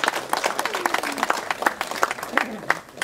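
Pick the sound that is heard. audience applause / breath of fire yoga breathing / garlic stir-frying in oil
audience applause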